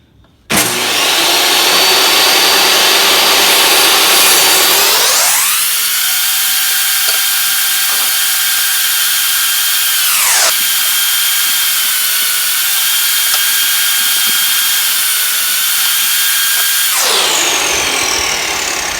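A power cutting tool slices through steel exhaust tubing for a 1929 Model A pickup hot rod, a loud continuous high whine that bogs down in pitch while cutting, eases briefly mid-clip, then bears down again before spinning back up.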